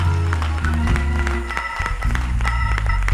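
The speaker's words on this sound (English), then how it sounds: "Let's clap our hands for her" A church congregation claps for a woman before her baptism, a dense burst of hand clapping mixed with crowd noise and a low sustained organ or music bed, loud and close.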